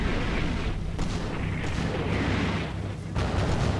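Artillery shells land close by in the Combat Mission wargame, set in Pomerania 1945: a steady roar of booming impacts and rumbling blasts that fills the whole clip with no voices.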